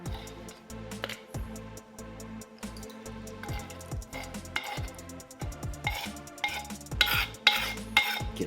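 Spicy sour Lao jeow som sauce is scraped from a mortar or container into a small bowl, with repeated clinks and scrapes of a utensil against the vessel, getting busier and sharper toward the end; no talking.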